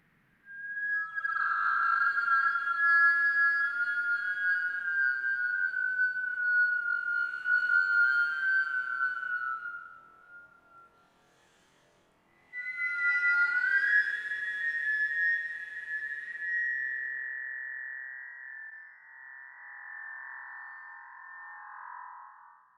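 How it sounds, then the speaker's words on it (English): A whistle instrument track soloed in a music production session plays two long sustained tones, bright and steady with slight pitch bends, separated by a short pause and alone without voices. "We'll solo the whistle."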